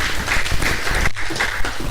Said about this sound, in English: So special round of applause for them.